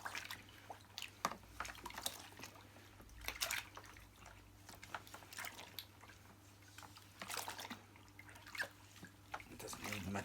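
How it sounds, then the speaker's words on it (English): Water drips and sloshes faintly as a vacuum cleaner bumper is wiped in a bucket of water, with scattered small splashes and trickles at an irregular rhythm, quiet and close. "let me give this bumper a quick wipe over while it's in my bucket of water"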